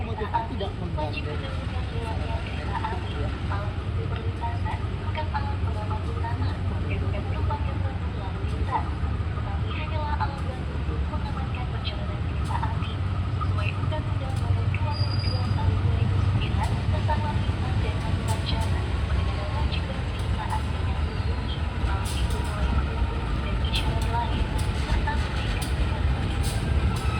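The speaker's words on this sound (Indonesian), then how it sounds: "Lokomotifnya langsir lagi nih, tapi nggak bawa apa-apa teman-teman, cuman loko doang." A vintage CC 203 diesel locomotive running alone while shunting, a steady low engine rumble near the listener throughout, with people talking over it.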